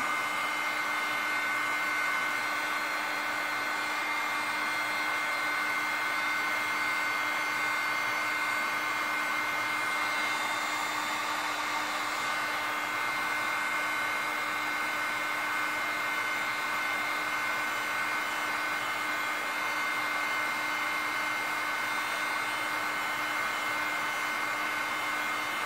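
A heat gun blows hot air on a seized power window motor wrapped in rubber on a 1965 Thunderbird convertible, making a continuous loud whir with a steady tone that holds for the whole stretch.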